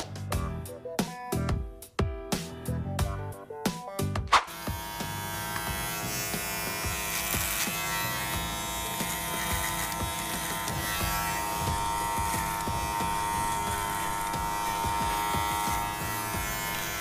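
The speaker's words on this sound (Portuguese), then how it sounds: "Vou passar a máquina, uma Skeleton aqui pra tirar o excesso dela." An electric shaver, a WMARK NG-987T, buzzes steadily and loudly close by as it cuts a beard and moustache, preceded by a few sharp clicks and bumps, running continuously for most of the stretch.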